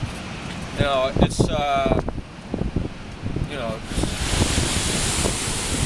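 Wind buffeting and ocean surf at Huntington Beach Pier, a rough rushing noise that swells louder near the end, while a person talks over it.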